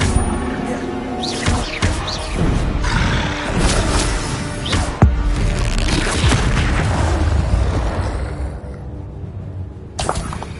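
The Incendio fire spell in Hogwarts Legacy goes off as a loud, booming roar of flame with crashing impacts that surge across several seconds, then fade before a final burst near the end.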